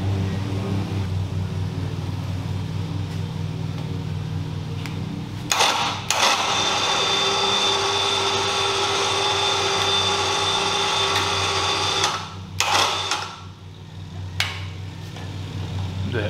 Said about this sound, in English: I'm going to use my little lift here